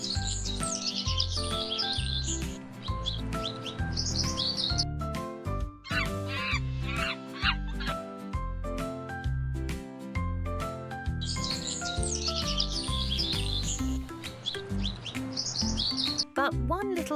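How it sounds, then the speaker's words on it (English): Cartoon birds chirp and sing at sunrise in a jungle scene, bright repeated tweets and trills layered over soft background music, lively and fairly close throughout. "Birds sang, and the animals woke up to a new day."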